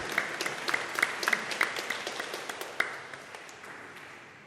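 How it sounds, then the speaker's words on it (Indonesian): Congregation applauding newlyweds at a church wedding ceremony: a crowd's clapping with sharp individual claps on top, starting strong and gradually thinning out and fading over several seconds. "mari kita berikan tepuk tangan untuk keluarga baru yang sudah ini"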